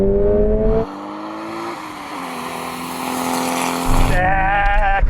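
Toyota GR86 and a Toyota Supra (80 series) accelerating hard side by side in a second-gear rolling race from 30 mph, loud engine notes climbing in pitch through successive rising sweeps, heard up close.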